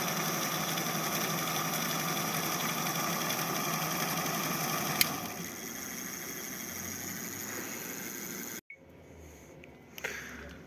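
A homemade motor contraption, rebuilt with a new bushing and rotor, running on its stand with a steady high-pitched whirring drone that holds, drops to a lower hum, then cuts off abruptly before a brief faint restart.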